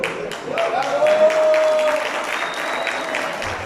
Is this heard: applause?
yes